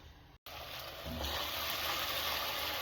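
Salted tomatoes sizzle in a covered pan. After a brief cut, a steady, close hiss of cooking settles in and holds evenly to the end.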